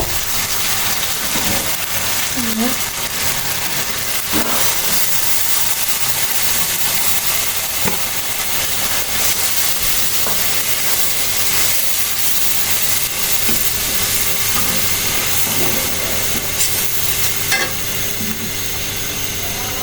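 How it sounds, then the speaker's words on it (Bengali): Spice paste with yogurt fries in a pan for a chicken roast, a loud continuous sizzle and hiss with occasional stirring scrapes, close and steady with no talk. "তো পুড়ে উঠে আসছে আমার মশলা কষে গেছে আমি এখন দিব আমার"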